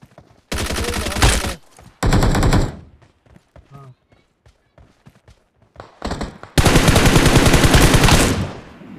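Bursts of rapid automatic gunfire from the video game BGMI come in several loud volleys separated by quieter stretches with scattered single shots.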